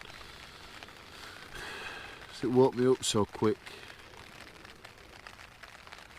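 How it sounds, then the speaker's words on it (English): Soft, steady rain patters on a tent while camping in the wild, with a person speaking quietly in a brief burst. "Raining as well"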